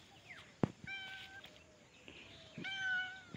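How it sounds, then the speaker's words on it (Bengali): A pet cat meows twice, clear and close, with a sharp tap just before the first call and light room noise between the calls. "বিড়াল আদর চায়।"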